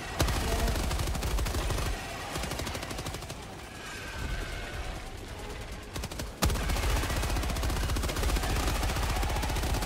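Dense, sustained automatic gunfire from the video game Helldivers 2, a rapid continuous stream of shots that briefly thins near the middle before surging back loud and steady.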